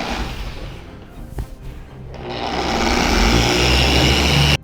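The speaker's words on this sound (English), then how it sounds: "Get my polisher out with a yellow pad. I'm using the Shine Made polisher and 3D1 as a one-step polish." A Shine Made polisher fitted with a yellow pad runs on car paint for a one-step polish, a whirring motor that starts softer, dips briefly, then ramps up to a steady loud hum before cutting off.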